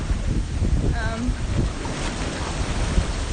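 Strong wind buffets the microphone on a breezy ocean shore, a rough continuous roar with surf mixed in, and a brief voice sounds faintly near the start.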